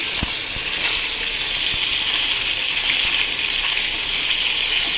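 Bhetki fish pieces fry in a pan of oil, making a loud, steady, close hiss with a few faint knocks.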